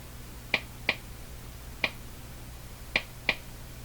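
Emerson 34C tombstone tube radio giving off sharp, isolated clicks like a Geiger counter, five crisp ticks at irregular intervals over a faint steady hum, close and fairly loud.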